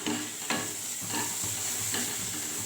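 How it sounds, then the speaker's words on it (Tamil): Curry leaves fry in oil in a pan: a soft, continuous sizzle with a stirring scrape about every half second, close by and with no voices. "நல்லா நல்லா ஃப்ரை ஆகட்டும் கருவேப்பிலை கொஞ்சம் போட்டுக்கலாம்"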